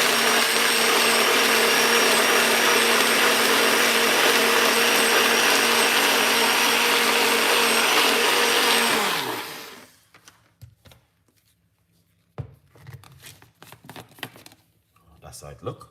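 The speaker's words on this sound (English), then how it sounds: "now let's blend" A blender runs loud and steady, whirring a ginger, lemon and salt water drink for about nine seconds, then winds down and cuts off, leaving faint handling clatter and small knocks.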